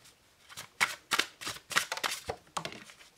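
Tarot cards being shuffled and drawn during a horoscope reading, a series of sharp riffling bursts and slaps in an uneven rhythm, close and crisp with no talking.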